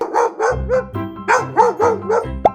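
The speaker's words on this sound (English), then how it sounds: "D is for dog." A dog barks repeatedly in a quick, steady run of about nine sharp, close barks, ending with a brief higher yip.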